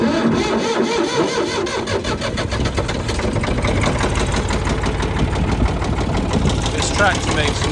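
An abandoned Ford 3000 tractor engine with a failing motor runs loud and close, rough and rattling with a knocking pulse throughout, while someone talks over it.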